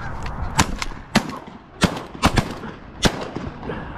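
Shotgun blasts ring out during a duck hunt, about six loud sharp shots in uneven succession, some in quick pairs, with geese honking around them outdoors.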